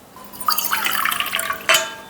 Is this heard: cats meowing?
no